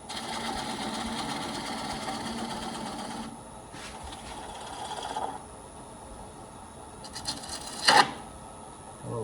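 Wood lathe turning a burl bowl, a steady whirring cut peeling off shavings that drops to a softer spin, then a short sharp scrape, close and moderately loud with no talk.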